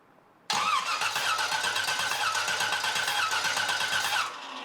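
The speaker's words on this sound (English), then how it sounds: "I disabled the fuel pump or disabled the ignition and turn the engine over." An engine cranks over with the ignition disabled during a compression test, the starter churning in a steady rhythmic whir for about four seconds after an abrupt start, then cutting off, loud and close.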